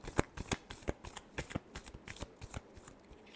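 A deck of tarot cards being shuffled by hand, heard as quick, crisp riffling and sliding flicks in an uneven rhythm, close and fairly quiet with no talking.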